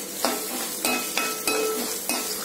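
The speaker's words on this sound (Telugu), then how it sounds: "ఇప్పుడు వెల్లుల్లిపాయలు ఒక పాయ పాయ ఒలిసేసి వేసేయండి." Garlic cloves frying in hot oil with spices for a Guntur gongura chutney, a steady close sizzle broken by several sharp stirring scrapes of a spoon in the pan.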